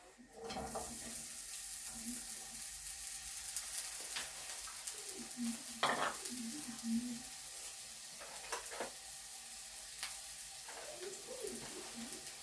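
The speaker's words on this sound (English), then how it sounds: "So after the oil heats, we are going to add the onions." Onions sizzling and being stirred in hot oil for Lyonnaise potatoes, a steady frying hiss with occasional scraping and clatter of a utensil against the pan, fairly close and moderate in level, with no talk.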